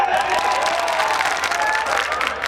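A crowd at a Bhojpuri qawwali contest claps steadily and densely, a loud continuous wash of applause with no breaks.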